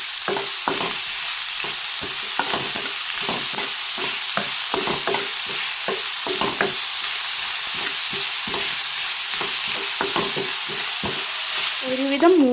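Onions with salt sautéing in a pan, a steady loud sizzle running throughout, punctuated by frequent rhythmic spatula scrapes and stirs, with no speech.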